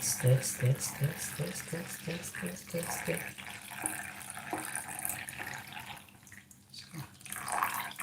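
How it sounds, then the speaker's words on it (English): Water poured into corn powder while it is stirred for a green pepper sauce dish, giving a close, wet splashing and sloshing with irregular drips and stirring scrapes, fairly steady throughout. "I'm going to add water to the corn powder. As I add water, I have to stir it so that it mixes correctly."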